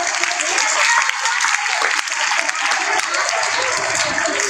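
An audience at a poetry recitation gathering claps loudly and steadily for several seconds, dense applause filling the space without pause.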